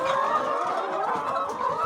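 Very old flea-ridden chickens cluck steadily in a dense, continuous flock chorus, fairly close and moderately loud, with no talking.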